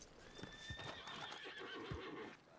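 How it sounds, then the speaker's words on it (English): A horse whinnies in a roleplay video game, a long high-pitched neigh with faint hoof clops beneath, moderately close and fairly quiet, with no voices over it. "I scared that horse, didn't I?"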